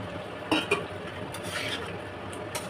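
Fried pointed gourds tipped into a pan of oil for curd-style gourd curry and stirred, giving a few soft clinks and scrapes under a faint steady sizzle, close by.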